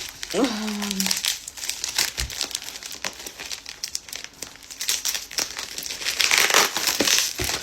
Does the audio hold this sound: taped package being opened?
yes